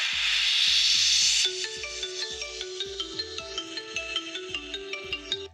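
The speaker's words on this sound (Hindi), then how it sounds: "ये MI का ऑफिशियल रिंगटोन है जो कि अभी आप लोग को सुनाई दे रहा था।" The official Xiaomi MI phone ringtone plays alone: a bright noisy swell, then a clean, steady melodic tone pattern over a regular soft pulsing beat.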